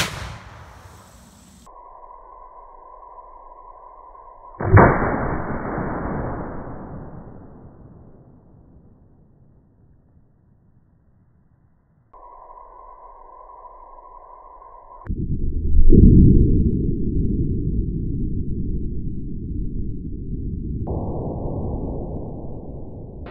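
A 50-110 WCF rifle loaded with black powder fires with a single loud, sharp report, followed by a long decaying roar; steady electronic tones sound before and after the shot.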